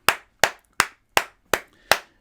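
Six separate sharp claps in an even, slow rhythm, each loud and close with a quick decay. The clapping is meant as applause for footballer Mbwana Samatta, newly signed from Genk.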